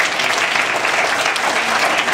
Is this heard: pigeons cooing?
no